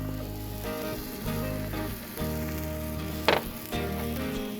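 Sausage sizzling on a Blackstone griddle over medium heat, a steady close frying hiss with a brief louder crackle burst partway through, no voices.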